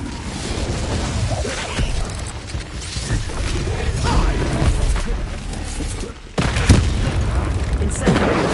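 Incendio fire spell cast in the video game Hogwarts Legacy, rumbling magical combat bursts and booms with a sharp, loud whoosh near the end, amid busy battle noise.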